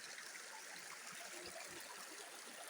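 Spring water flowing at a natural spring near a village elementary school in Mindanao, a faint steady trickling stream heard at a distance without breaks.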